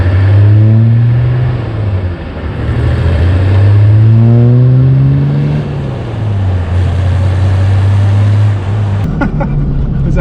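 A diesel Nissan GQ Patrol accelerates at full throttle in second gear, its low engine note climbing slowly and steadily, loud and close from inside the cab, with a voice speaking briefly over it.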